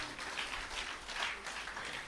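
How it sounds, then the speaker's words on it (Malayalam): A church congregation at a Pentecost service clapping hands together, a soft, continuous patter of many hands heard from a distance and fairly faint, without speech. "കൈയടിച്ച് നിങ്ങളെ തന്നെ അഭിനന്ദിക്കുക"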